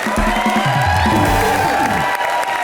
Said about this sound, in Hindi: फैंटास्टिक, मोनी के लिए जोरदार तालियां